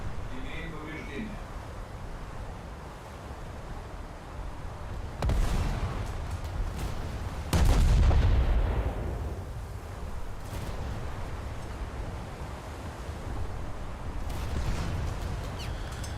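Naval guns firing in a warship video game, several heavy booming reports spread through the stretch, one loud blast standing out, with rumbling battle ambience and game voice lines underneath.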